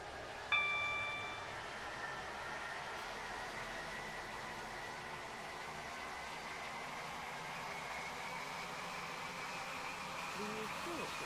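A train running in the Stepford County Railway video game, with a short chime near the start followed by a steady, even hum of the moving train.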